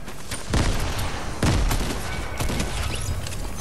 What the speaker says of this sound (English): Someone's shooting at you.